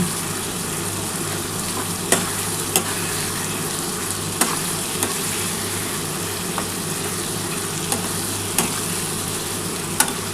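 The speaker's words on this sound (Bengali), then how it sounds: "এবার এইটা খুব ভালোভাবে নাড়াচাড়া করতে হবে।" Fish curry masala with potato, onion, tomato and coriander leaves sizzles steadily in a pan while being stirred, a constant frying hiss with occasional sharp spoon clinks against the metal, close and unaccompanied by speech.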